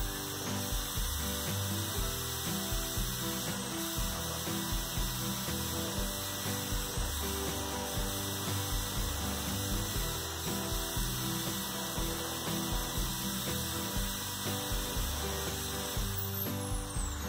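A drill bores holes in a 1.5 aluminium angle heat sink, a loud continuous mechanical whir with a steady ratcheting, gear-like churn that runs unbroken throughout, and no talking.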